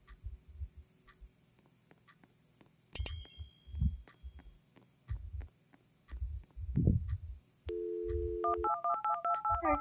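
Telephone dialing inside the Roblox haunted hotel game: a steady run of electronic keypad tones near the end, after thumping footsteps, chimes and a low hum.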